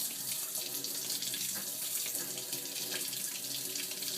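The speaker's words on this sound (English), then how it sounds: "Now I'm going to turn the spigot on" Warm water runs steadily from a spigot into a sink or tub, a continuous close hiss and splash with slight fluctuations and no talk over it.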